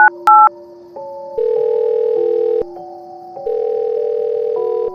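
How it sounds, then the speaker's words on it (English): Telephone keypad dialing a number: a few quick touch-tone beeps, then a sequence of steady dual-tone notes in an even rhythm, loud and close with no talk. "I called the number."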